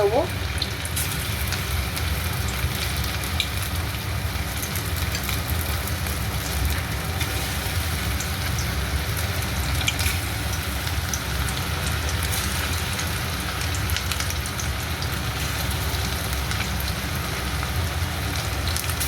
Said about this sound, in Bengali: তেল এদিকে গরম হয়ে গেছে এবার আমরা চিকেনগুলো একটা একটা করে ছেড়ে